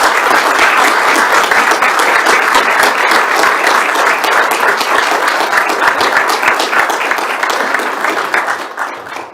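Sustained, loud applause fills a commission meeting room, many hands clapping steadily for about nine seconds before tapering slightly at the end, with no voices standing out.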